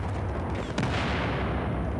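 Gunfire in a multiplayer online shooter game, a steady wash of distant shots and rumbling booms under a dense, continuous battle din, with one sharper crack partway through.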